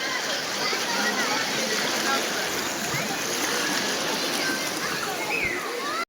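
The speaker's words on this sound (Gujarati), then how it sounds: "પાણીની ગતિ જોવો તમે ખાઈ ફૂલ તેજી સાથે આવી રહ્યું છે પાણી" Floodwater of the Malan River at Mahuva, running bank to bank past half-submerged cars, makes a steady, loud broadband roar of fast rushing water, close and unbroken, with voices faintly mixed in.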